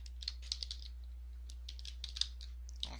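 Quiet, close typing on a computer keyboard with irregular light clicks and a few sharper keystrokes over a low steady hum, during work on a bouncing ball animation exercise.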